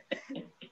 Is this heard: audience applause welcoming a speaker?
no